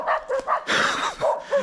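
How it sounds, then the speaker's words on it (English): A young small white dog barks and yaps in close, rapid bursts, with a brief whimpering note between the sharp barks. "Savaged by a little white dog."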